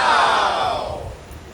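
Sea waves at the coast of Samcheok, one loud broad wash that swells at once and then slowly fades as it draws back, heard close with no talking.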